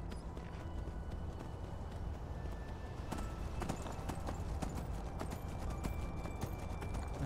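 A donkey mount in the video game Enderal trots along with a steady, quick clip-clop of hooves, moderately close and continuous with no other prominent sounds.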